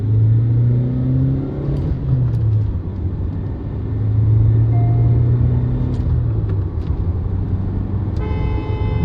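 A Hyundai Creta 1.5 diesel accelerates hard with wheel spin, a loud, close engine roar climbing in pitch through the gears with a brief tyre chirp and a short horn-like tone near the end.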